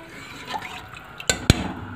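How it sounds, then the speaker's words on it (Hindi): A little water goes into moong masoor dal in a pot, heard as a brief splash and a couple of sharp drips and clinks against a quiet kitchen background. "ये मैंने थोड़ा पानी और डाल दिया"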